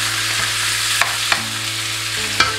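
Meat for goulash searing in a hot pot, a steady broadband sizzle with a few sharp clicks and scrapes from stirring, close and fairly loud, with no talking.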